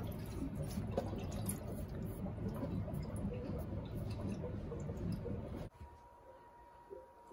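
Water draining and trickling from an electric water heater through its opened relief valve, a steady wet splashing flow that cuts off abruptly near the end, leaving a faint hum.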